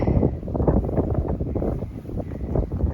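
Gusty outdoor wind buffets the microphone among rocks with mountains in view, a continuous low roaring rumble that swells and dips without pause, with no one talking.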